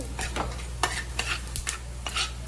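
Ingredients roast in a little oil in a pan, with a spatula scraping and stirring in quick repeated strokes over a soft sizzle and a low steady hum.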